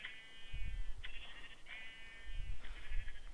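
Sheep in Minecraft VR bleat in several short, wavering calls over a soft background rumble of low thumps and movement.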